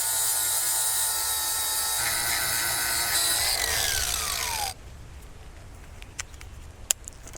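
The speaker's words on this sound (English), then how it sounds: "I need to grind this off like they did." A power tool grinds steadily at close range to cut a part off, its whining, rasping tone running loud for several seconds before the motor cuts out and spins down, leaving a few faint clicks and knocks.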